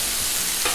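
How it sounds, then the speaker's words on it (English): Firecracker chicken sizzles steadily on a hot Blackstone griddle, a close, even crackling hiss with no voices. "Nice sizzle"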